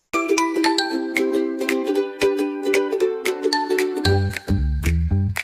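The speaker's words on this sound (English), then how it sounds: "Ding dong, oh, what's that sound?" A bright doorbell-style ding-dong chime rings out repeatedly over the bouncy musical backing of a children's rhyme, with a deeper bass line joining near the end.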